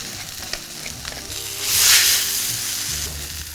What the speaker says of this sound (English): So basically the purpose here is just to sear the outside.